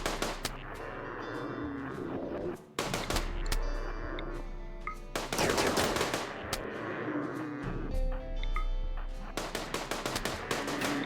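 Gunfire in the colony game RimWorld as colonists shoot at a Thrumbo, with bursts of rapid shots and sharp single cracks over the game's background tones, loud and busy across the whole stretch.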